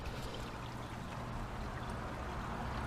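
Water from a pond filter flowing into a backyard fish pond, a soft steady rushing trickle, faint and continuous without talking.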